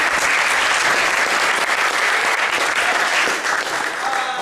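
Sustained, loud audience applause at an improv comedy show, steady clapping from a crowd with no pauses throughout.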